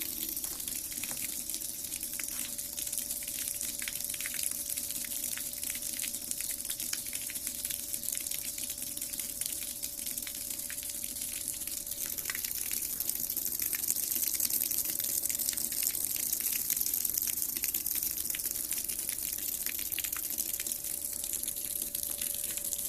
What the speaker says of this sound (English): it's draining the bucket of water at a pretty good rate